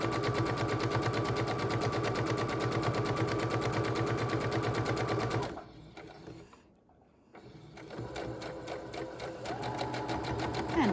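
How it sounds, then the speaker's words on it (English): A sewing machine stitching quilt fabric blocks runs in a fast, steady mechanical rhythm, pauses briefly, then starts up again and continues stitching. "We're going to sew straight down this block"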